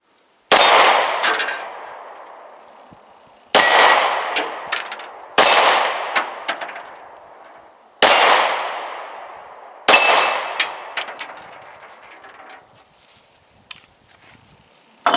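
A Taurus 709 Slim 9mm pistol fires five loud, sharp shots at uneven intervals, each with a metallic ring and a decaying tail, with a few lighter clinks and clatters between them.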